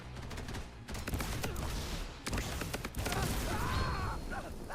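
SMG fire in the Borderlands Mobile video game, rapid bursts of gunshots in several short volleys with brief gaps, loud and close.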